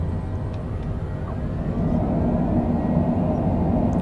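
A business jet, a Cessna Citation Longitude, deploys its thrust reversers after a night landing at Duluth, giving a broad, steady engine roar that swells slightly partway through, with no talk over it.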